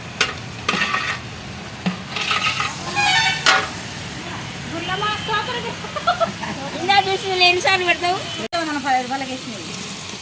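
Food is stirred in a pot in a home kitchen, with scraping and sizzling strokes at the start, and then people talk over a soft frying hiss for the rest.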